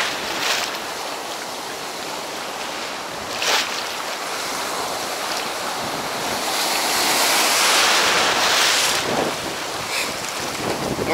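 Steady roar of Sea of Azov surf and breaking waves at a beach in Sedovo, with gusts of wind across the microphone, swelling louder midway, no voices.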